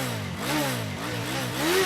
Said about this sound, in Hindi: बाइक पे किक मार।